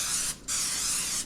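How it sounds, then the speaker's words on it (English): Nonstick cooking spray hisses onto parchment lining a baking pan for brownies, two steady close bursts with a short pause between them, no talking. "Then we're also going to spray the inside"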